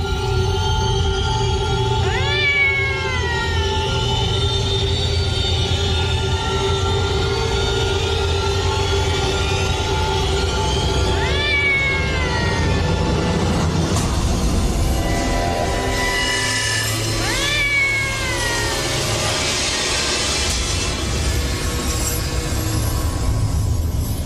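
A cat meows three times, each a drawn-out falling cry spaced several seconds apart, heard over a constant low rumble and background noise.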